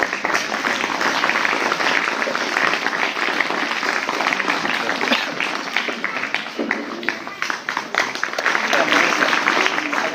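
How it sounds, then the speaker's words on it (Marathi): An audience at a school felicitation ceremony for teachers and staff claps steadily in a dense, continuous round of applause lasting about ten seconds. "टाळ्या नाहीत का आपण टाळी विसरलो"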